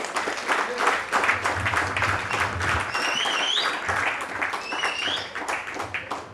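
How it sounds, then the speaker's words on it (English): Crowd at a prison football finals ceremony applauding, sustained rapid clapping from many people at fairly close range, with a few whistles and cheers rising over it midway. "So you all deserve a round of applause."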